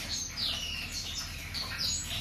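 Faint, high chirping and whistled calls from white-rumped shamas kept on a breeding farm in Aceh, repeating in short bursts over a low, steady background hiss.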